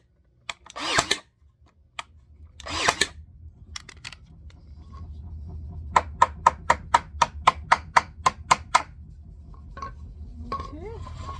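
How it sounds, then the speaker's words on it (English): Scrap wood boards are nailed together for a table: after a few scattered knocks, a rapid, even series of sharp, close hammer blows rings out over a low background hum. "And I'll be able to nail these in."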